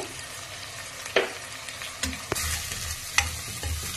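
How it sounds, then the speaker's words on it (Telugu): Onion paste frying in a pan for an aloo mutton curry, a steady sizzle broken by several sharp scrapes and stirs of a spoon against the pan, with no voices. "2 స్పూన్లు ఆనియన్ పేస్ట్ వేస్తున్నానండి."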